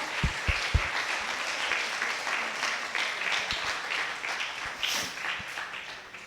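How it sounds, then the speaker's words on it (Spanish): Church congregation applause at a Spanish-language service, a full wash of clapping with a few sharp claps up close and a brief shout near the end. "dele fuerte ese aplauso al Señor"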